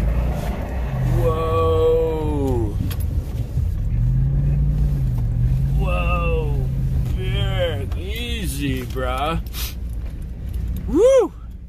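A Toyota Tundra double cab pickup drifting sideways on snow and gravel, a steady low engine rumble throughout, under people talking and exclaiming close by.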